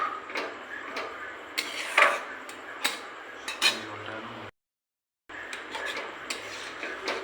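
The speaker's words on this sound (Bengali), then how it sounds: "একটুখানি গ্রেভি দিয়ে দিলাম, ভালো করে নাড়ব।" A spoon scrapes and clinks against a pot as Maggi noodles and chicken in gravy are stirred, giving irregular metallic taps over a soft simmering background, with a brief silent gap partway through.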